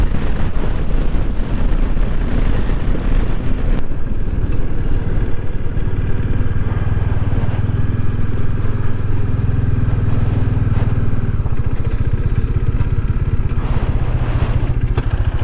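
Motorbike riding along a highway on a long-distance trip toward Rajpura, with a steady engine drone and wind rush throughout, the low engine note swelling for stretches in the middle.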